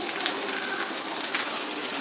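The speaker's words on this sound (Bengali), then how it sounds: "এই যে মাছ ভাজা হচ্ছে" Fish sizzling in a frying pan on a home stove, a steady, bright crackle of hot oil with scattered small pops, fairly close and continuous, with no talking.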